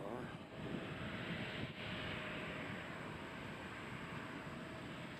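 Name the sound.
Southwest airliner arriving from Houston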